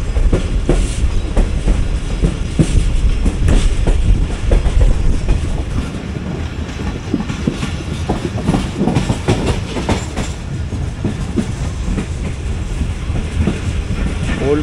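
Old coaches of the Shalimar Express passenger train roll past near Rohri, a loud, close, continuous rumble with a steady clickety-clack of wheels over rail joints throughout, and no talking.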